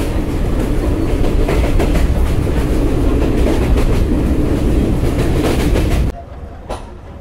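The Banglabandha Express runs along the rails just after pulling out of Atrai's old railway station, a loud, steady rumble with rhythmic clickety-clack of wheels heard from inside the coach. It cuts off abruptly near the end.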